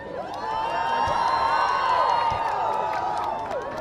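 A dense crowd in Windsor cheers and shouts for William and Kate, loud and close, with excited high-pitched voices and whoops swelling into a sustained roar, scattered clapping beneath it.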